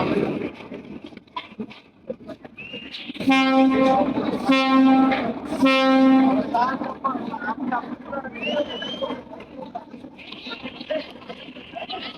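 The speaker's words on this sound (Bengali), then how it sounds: "বরিশাল ঘাট থেকে পারাবাদ 11 লঞ্চ ব্যাক গিয়ার করে চলে যাচ্ছে ঢাকার উদ্দেশ্যে।" The passenger launch Parabat 11 backs away from the Barishal river ghat, sounding three loud, deep horn blasts in quick succession amid crowd chatter and dockside bustle.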